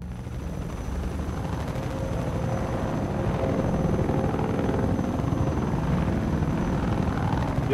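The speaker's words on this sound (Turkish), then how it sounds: "Bir combine helikopteri çalındı." A Combine helicopter from the Half-Life 2 Minerva mod drones loudly and steadily, its rotor thrum and engine roar building slightly in intensity and holding close throughout, with no talk over it.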